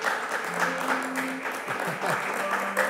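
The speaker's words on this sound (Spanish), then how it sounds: "¡Un aplauso para Lorna!" Studio audience applause on a live television show as a guest arrives on set, a lively clapping wash with faint tonal music underneath.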